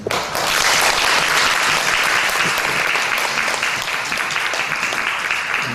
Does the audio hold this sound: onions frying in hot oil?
no